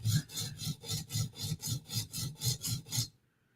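Spyderco Native knife blade drawn across a sharpening stone, about eleven even rasping strokes in a quick steady rhythm, close and clear, then silence.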